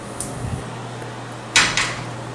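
A hotel room sliding door that will not stay shut is moved, giving a soft scrape followed by two sharp rattling knocks near the end against a quiet room hum.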